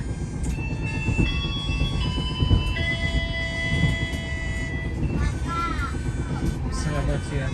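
The Matarmaja passenger train in Indonesia rolls on the rails with a steady rumble and rhythmic wheel clatter, recorded from on board, with a faint bird call and tonal chimes or squeals over it.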